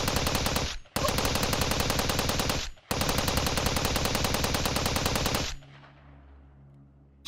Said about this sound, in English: Shimiyama's screen was cut off by the sound of gunfire.